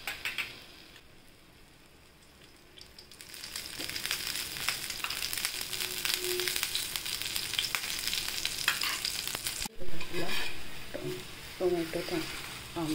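A tomato veg omelette fries in oil in a pan, a steady crackling sizzle that builds after a quiet start, with a sharp clatter near the end and a few fainter scraping sounds after it.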